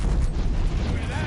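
Fiery missiles launching in the video game Horizon Zero Dawn, a dense, continuous roar of booming blasts and rumbling low-end bursts that stays loud throughout the short stretch.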